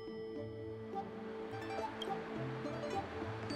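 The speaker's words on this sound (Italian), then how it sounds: "I can still clearly hear the sound of the waves." Ocean waves wash in a steady, soft surf within the Honkai Star Rail video game, heard under sustained musical tones with no voices.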